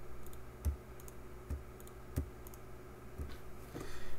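Mouse clicks on a Windows computer with shift held down for a right-click, a few sharp close taps spaced irregularly over a quiet hum.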